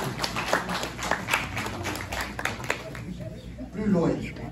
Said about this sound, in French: est-ce que ça ne s'applaudit pas ça?